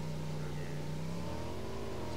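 Motorcycle engine revving in PUBG, a close, steady mid-pitched drone that rises and falls slightly over about two seconds, alone without talk.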